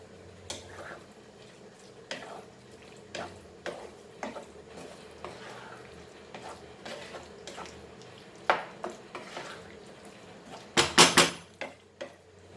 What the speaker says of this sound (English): Now you add our capsicum and mix this.